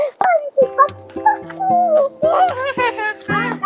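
Small dogs yip, whimper and bark in quick repeated bursts near at hand, with short gaps between calls.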